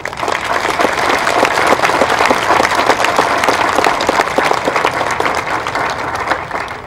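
At the 2015 Wethersfield High graduation, the audience applauds the class advisor with loud, dense clapping from a large crowd that holds steady throughout and eases slightly at the close.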